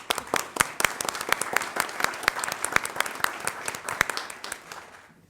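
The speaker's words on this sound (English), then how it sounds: "Let's give them a round of applause." An audience bursts into applause at a school district recognition gathering, a brisk, moderately loud round of clapping that swells and then tapers off over a few seconds.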